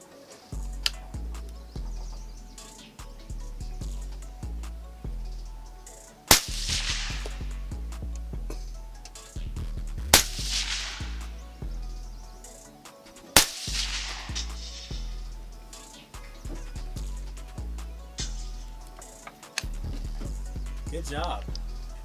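An AR-15 with a red dot sight fires at a target: four sharp, loud gunshots spaced several seconds apart outdoors, with a rhythmic clopping and thudding background throughout between shots.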